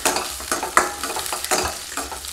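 Chopped onion hitting hot oil in a pan for spring onion sambar, a steady close sizzle with several scraping stirs of a spoon, loud and continuous with no talking.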